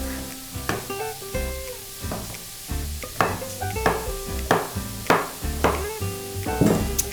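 Chopped vegetables, including zucchini and peppers, sizzle steadily in a pan for one-pan pasta while a utensil stirs and scrapes them in repeated loud bursts, with no talking.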